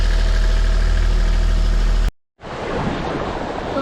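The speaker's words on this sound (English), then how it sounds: "It cycles on and off like that. I'm pretty sure it's the bearing on the alternator." Sailboat engine running with a noisy alternator bearing, a steady low mechanical drone that cuts out briefly, then returns as broad noisy hiss and rumble, loud and close.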